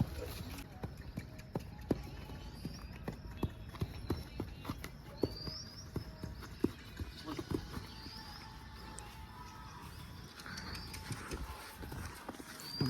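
A horse in training clip-clops in a string of sharp hoof strikes, loud and close, with neighing, birdsong and people talking in the background.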